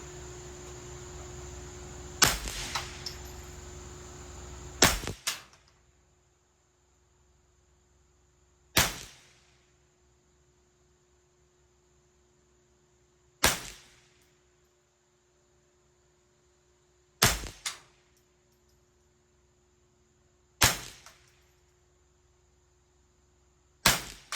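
A 10/22 rifle fires about seven single shots outdoors, sharp cracks spaced a few seconds apart with brief echoing tails and near silence between them, after some rustling handling noise at the start.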